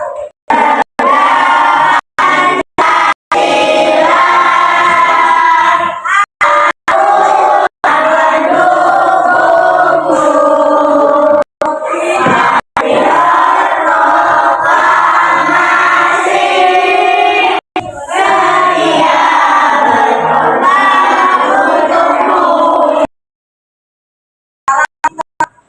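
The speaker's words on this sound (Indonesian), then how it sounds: "kita menyanyikan lagu Garuda Pancasila" A school class of children sings the Indonesian patriotic song Garuda Pancasila together at the start of a lesson, loud massed young voices in sustained unison with brief breaks between phrases, ending in silence.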